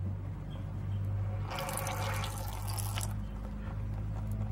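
Brake fluid drips from an ABS brake system being bled, heard as a brief splashing trickle over a steady low mechanical hum in a garage.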